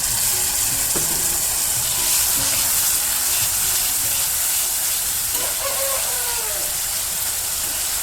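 Spices and ginger-garlic paste stirred as they fry in a pan for a Bengali potol dish, a steady hiss of sizzling oil with faint scraping of stirring throughout, no talk.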